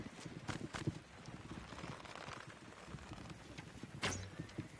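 Horse hooves clip-clop in the video game Vesthold Defense: faint, irregular hoofbeats under low background game noise, with one sharper impact near the end.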